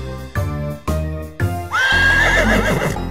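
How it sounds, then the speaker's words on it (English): A horse neighs loudly in a barn, a long whinny that rises and wavers after short bursts of upbeat children's music, with the music playing throughout. "A horse is in the barn."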